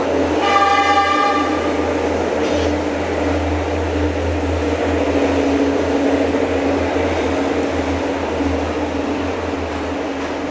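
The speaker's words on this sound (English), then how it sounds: "the trains are getting pretty annoying" Trains passing in Sri Lanka, a steady loud rumble with low droning hum throughout, a brief high whistle-like tone near the start, no voices.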